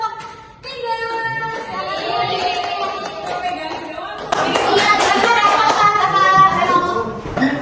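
A class applauds for a group of students, with quick claps and chatter among children over a sustained tonal background that swells louder partway through.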